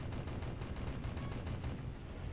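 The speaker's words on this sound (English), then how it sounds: "Fire my cannons to actually slow down better." Rapid cannon fire from a MiG-15 jet fighter in the video game War Thunder, a steady burst of about a dozen sharp, evenly spaced shots, fairly faint and without voices.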